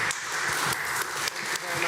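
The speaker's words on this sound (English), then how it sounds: "Let's give these guys a round of applause." Applause from a small group at an NFC summit, steady broadband clapping lasting about two seconds, with some voices mixed in.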